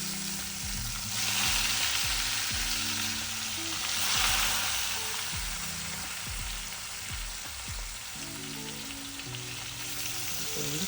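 Chicken tikka pieces fry steadily in hot oil, giving a continuous close sizzle with occasional soft stirring or scraping sounds, and no one talks.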